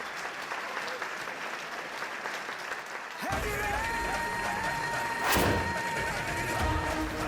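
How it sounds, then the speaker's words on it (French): Audience applause for a student honoured with a gold medal as top of her class, breaking out suddenly and staying steady and dense for several seconds, with a brief louder swell near the middle. "Applaudissez."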